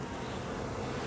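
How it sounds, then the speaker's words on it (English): Honeybees buzzing around an open hive during a May garden inspection, a faint, continuous drone with no talking. "Bees are really bringing in pollen today"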